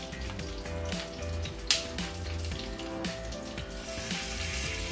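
Onion and tomatoes with stewing cloves frying in a pan for a pork trotter dish, a continuous close sizzle and crackle with some clinks, no talking.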